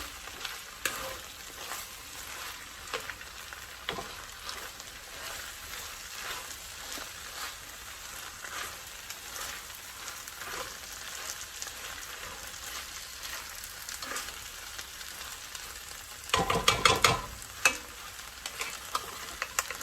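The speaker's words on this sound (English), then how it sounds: "And then of course I stir that in too." Veggie fried rice sizzles steadily in a pan while it is stirred, with soft scraping strokes under the crackle and a louder burst of stirring near the end; no one speaks.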